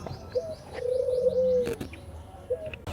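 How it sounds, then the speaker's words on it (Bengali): Soft, repeated cooing of doves nearby, one long coo in the middle with shorter calls around it, plus faint chirps and a brief rustle. "বিভিন্ন ধরনের ঘুঘু"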